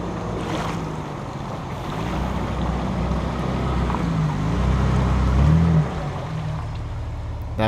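A lifted 2004 Jeep Wrangler with breathers plows through water, giving a loud, continuous rushing wash and splash over the low engine rumble, with no talking.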